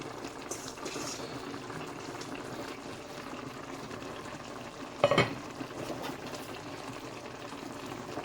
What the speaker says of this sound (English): it's boiling down to a gravy.